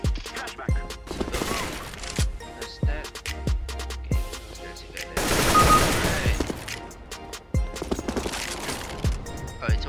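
Gunfire shooting through a wall in Counter-Strike: Global Offensive: sharp shots crack out in rapid bursts with a dense volley in the middle, loud and continuous throughout.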